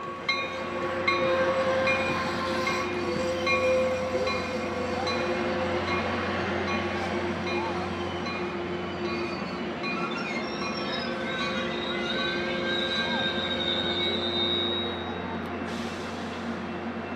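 Freight train rolling past Burlingame station, a loud, continuous rumble and clatter of wagons close by, with tonal squeals and horn-like tones layered through, easing slightly toward the end.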